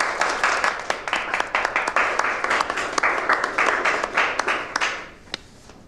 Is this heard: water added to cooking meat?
no